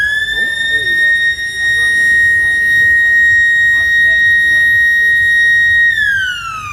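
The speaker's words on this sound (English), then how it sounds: "Normally you get a siren for a car coming into the pits" A loud, steady electronic pit lane siren at the Donington race track, a sustained tone holding for about six seconds before dropping in pitch as it cuts off, with faint background noise beneath.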